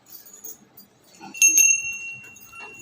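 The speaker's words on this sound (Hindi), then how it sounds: "घंटी बजाना हो।" A small handheld puja bell rings during a Satyanarayan katha at home, a few bright metallic strikes with a sustained tinkling ring, amid soft room noise and faint movement.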